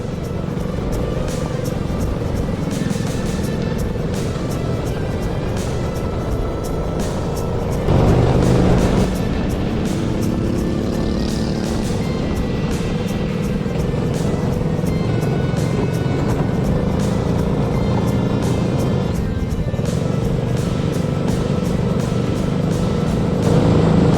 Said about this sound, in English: This is the first race kart I've ever been in. I'm going out in wet weather, I'm going out on wet weather tyres